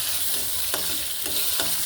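Dried red chillies and garlic frying in hot oil in a pan, an even sizzle with three or four short stirring scrapes spaced through the clip; no voices.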